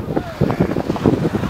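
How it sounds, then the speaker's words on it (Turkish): Strong wind buffets the microphone in steady rough gusts near a wildfire on the mountain above Zeytinalanı village in Köyceğiz, with a voice faintly underneath. "Evet, korkunç bir rüzgar var."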